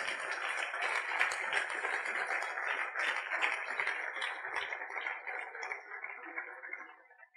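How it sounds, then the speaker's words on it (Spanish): A church congregation claps together, a dense sustained wash of applause heard at moderate distance that holds steady and then fades out toward the end. "dele ese aplauso fuerte al Rey"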